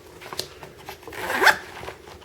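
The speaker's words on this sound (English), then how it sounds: "the zippers on these are okay" Quick zipper pulls on a belt MOLLE pouch, close and crisp, with a short rasp building to a louder pull near the end.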